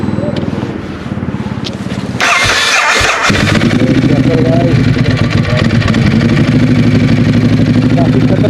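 A Kawasaki Z900 motorcycle fitted with a loud M4 exhaust starts up and settles into a deep, rumbling idle, heavy and close, with some blips of throttle.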